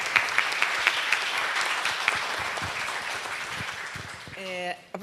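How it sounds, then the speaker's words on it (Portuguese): An audience claps for an honoured professor at a Folkcom 2025 tribute ceremony, a steady moderate applause with a few sharper claps near the front, ending as a voice begins to speak. "salva de palmas para você e para a memória de sua família"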